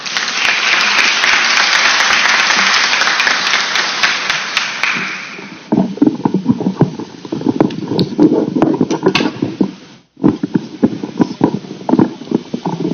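Strong applause from a forum audience welcomes an education vice minister, a loud dense wash of clapping for about five seconds that thins into scattered claps and handling knocks, with a brief gap before more thumps.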